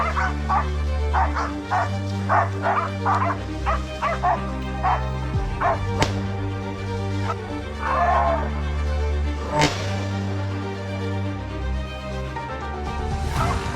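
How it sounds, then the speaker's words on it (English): Hunting hounds bark loudly and insistently during a wild boar chase in a forest, with rapid repeated barks, yips and whimpers from several dogs close by. "suddenly the barking of hounds shattered the silence"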